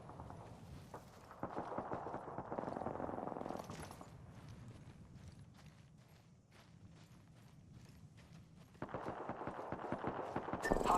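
Video game gunfire in a battle royale match, bursts of rapid shots mixed with mechanical clatter and footsteps, moderately loud with quieter gaps between volleys.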